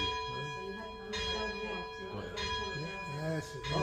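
Church bells peal from the Kings Park bell tower in Perth, Australia, a steady layered ringing of many tones with fresh strikes every second or so, carrying on under nearby murmured talk.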